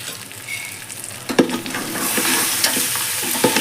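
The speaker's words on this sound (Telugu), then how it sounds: "మంచిగా కలుపుకుందాం" Spicy mutton head curry stirred and fried in a pan, a steady close sizzle with scraping spoon strokes and clacks against the pan throughout, no talking.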